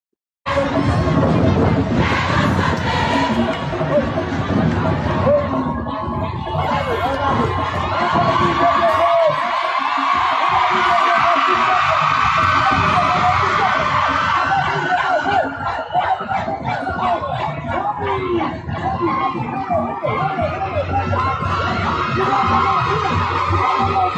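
A large crowd of Haitian garment workers protesting outdoors yells and shouts continuously, with loud cheering, whoops and overlapping voices held at high volume throughout.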